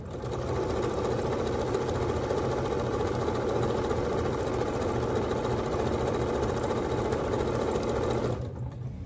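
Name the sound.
sewing machine stitching a scrap quilt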